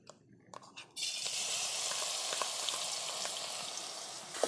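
Ground green chilli and garlic hit hot oil in a home kitchen pan and burst into a loud, steady sizzle, with a few soft clicks and faint sounds in the background before the frying starts.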